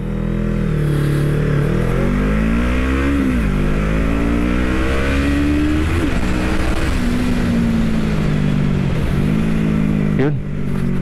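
An FKM Falcon X400 motorcycle accelerates hard from a standstill in an open field, its loud, close engine climbing in pitch through several gear shifts, dropping briefly at each change before revving up again.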